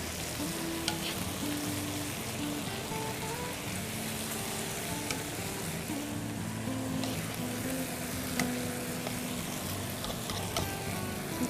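Beef strips fry in a hot skillet for a stir fry, giving a steady, dense sizzle with occasional sharper pops and scraping stirs, close and continuous with no talking.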